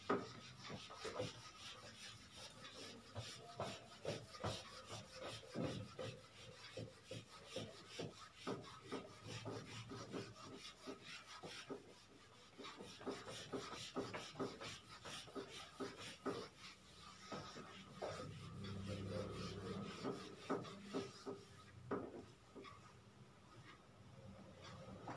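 Writing being rubbed off a board after a maths lesson, repeated rasping strokes in a rough back-and-forth rhythm, close and moderately loud, with no talking.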